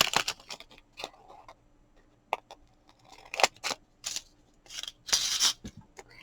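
Scissors snipping apart diamond painting bookmarks, giving sharp close-up cuts in irregular bursts with short pauses between snips. Some clusters come quickly, and a longer rustling cut comes near the end.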